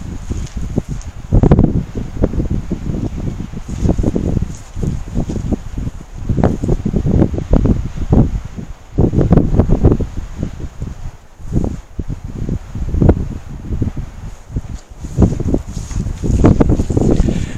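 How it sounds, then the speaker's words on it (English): Strong gusty wind at a wind farm buffets the microphone continuously, loud rumbling gusts rising and falling throughout with no other sound. "there has been a strong wind all day"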